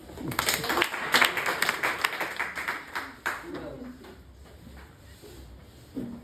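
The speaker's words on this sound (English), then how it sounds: "Would you clap for me?" An audience claps at a science talk on circular systems, a burst of scattered hand claps in the first few seconds that thins out and fades, with voices murmuring underneath.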